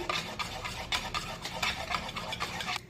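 Batter for sweet semolina appe being stirred with a spoon in a bowl, jaggery mixed through, giving a steady rhythmic scraping and swishing, close and moderately loud with no talking.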